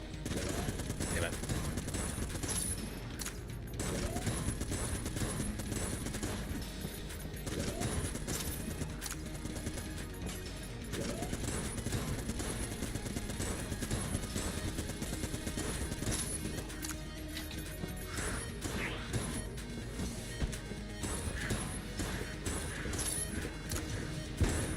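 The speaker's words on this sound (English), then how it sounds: "He's shooting missiles at me." A dense, continuous barrage of missile fire, blasts and crashes pounds at the player in a shooter video game, loud and unbroken throughout.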